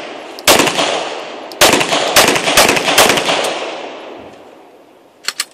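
Several loud 9mm and .40 pistol shots are fired outdoors at a Sterling Cross body armour plate. The sharp cracks come in irregular clusters, each with a decaying echo, followed by a couple of fainter pops at the end.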